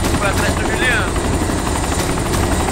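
A helicopter in the survival game DayZ drones steadily and loudly with a throbbing rotor beat throughout, while someone talks over it.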